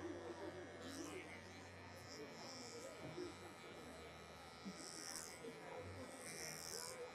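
Electric clippers trimming the head of a Giant Schnauzer, giving a soft steady buzz that rises and fades as the blades move through the hair, with quiet talking from the groomer alongside.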